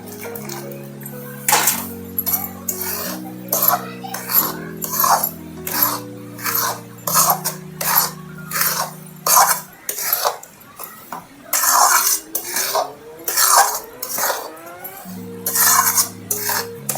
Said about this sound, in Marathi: हा पाक 1 ग्लासचा यामध्ये आपण मिक्स करून घेऊ